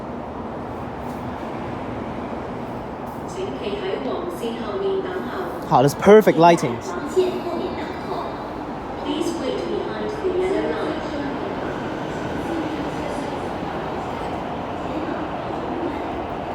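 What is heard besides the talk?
C train arriving at Tai Shui Hang metro station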